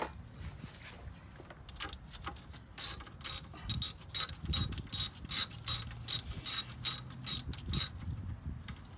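A ratchet with a 10 mm socket turns a bolt on an F150 alternator, a run of about a dozen crisp, evenly timed clicking bursts close up after a few seconds of quiet handling noise.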